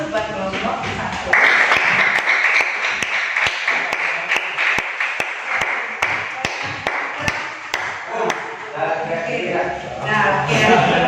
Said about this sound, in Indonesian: Kita kasih aplaus buat kelompok 1.